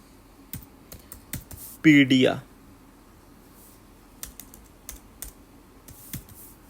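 Fingers type a word on a computer keyboard, a run of light, quick key clicks near the mic, broken by a brief stretch of talk in the middle.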